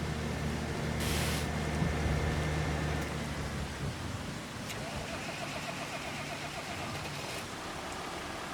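A farm tractor's engine idles and rumbles as it backs around on a stormy day, with a low steady drone that eases after a few seconds under a wash of rain noise.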